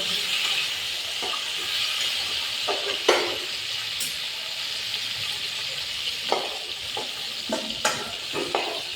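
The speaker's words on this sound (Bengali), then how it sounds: "ফুলকপি আলু ভাজা ভাজা হয়ে গেছে" Cauliflower and potato pieces frying in oil with salt and turmeric give a steady close sizzle, with intermittent sharp clinks and scrapes from stirring.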